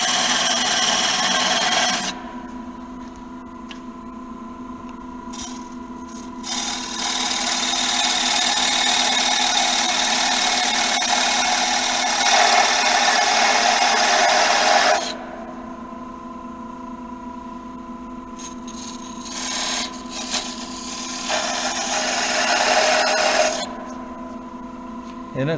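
Wooden door stop on a lathe as a tool is driven 5/8 inch deep into the spinning wood, giving a loud sustained scraping hiss in long passes over a constant motor hum.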